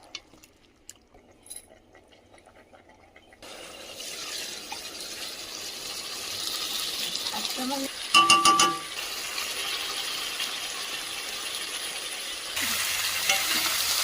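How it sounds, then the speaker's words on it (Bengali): Chicken sautéed and simmered in a pan over medium flame, releasing its own water: a steady low sizzle and bubbling with stirring scrapes, growing louder toward the end. "মাংস থেকে জল বেরিয়েছিল, আমি কিন্তু এভাবে কষাতে কষাতে ফুটিয়ে নিয়েছি।"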